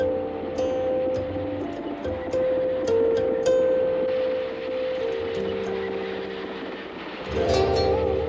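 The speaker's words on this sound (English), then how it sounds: "The Dalai Lama took the train for the first time" A long-distance passenger train running on the way to the Chinese border, with a steady rumble and sustained tonal hum, faint clicks and ticks over the top and a louder swell near the end.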